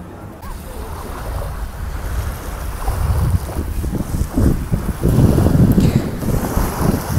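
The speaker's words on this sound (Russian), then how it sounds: "Шум волн." Sea waves wash in continuously under loud gusting wind buffeting the microphone. The surf swells and grows louder toward the end, with no voices.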